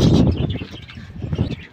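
Pigeons coo nearby in soft, low, throaty murmurs that repeat and overlap over a short moment, with no one speaking.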